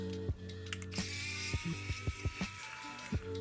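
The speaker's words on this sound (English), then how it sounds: "Now we can get our screwdriver and undo the 6 screws running up and down each side." Screwdriver undoing the small screws on an iPod classic: a run of sharp, close ticking clicks at an irregular ratchet-like rhythm over a faint steady hum, quiet overall and free of talk.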